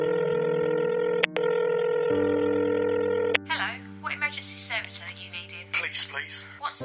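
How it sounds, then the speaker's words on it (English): A steady telephone dial tone hums while someone prepares to call the police, with a brief beep and a shift in pitch partway through. Then the line gives way to a person speaking. "I'm gonna get my phone, ring the police"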